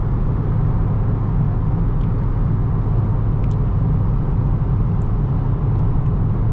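Steady low road rumble and engine drone from a new Dodge Charger cruising at constant speed on cruise control, continuous and even throughout, with no talking.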